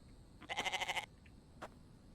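A sheep or goat in The Infected survival game bleats once in a long, wavering, pulsed call lasting about half a second, followed by a brief fainter cry, with quiet game ambience and no talk.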